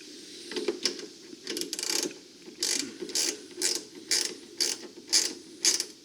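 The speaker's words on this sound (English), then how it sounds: "Tighten that bolt back down." A ratchet wrench tightens a bolt back down on a car starter job, giving a series of quick clicking strokes in an even rhythm, fairly quiet and close, with no voices.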